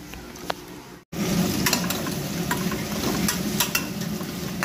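Pointed gourd and potatoes dry-frying in a pan, a steady dense sizzle with scraping stirring strokes throughout, loud and close after a brief gap near the start, with no talking.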